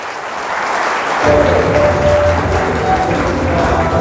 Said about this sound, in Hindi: आप आए इसके लिए सब जन तालियां बजाइए